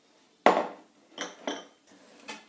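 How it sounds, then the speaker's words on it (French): Egg yolk and sweetener being mixed in a bowl for a light cherry cheesecake: one sharp utensil knock against the bowl, then a few softer clinks and scrapes, close by, with no talking. "on rajoute l'édulcorant au jaune et on va mélanger"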